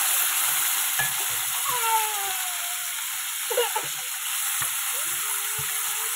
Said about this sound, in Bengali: এই যে কুচনো আলুগুলো একটু দিয়ে লাল লাল করে একটু ভেজে নেবো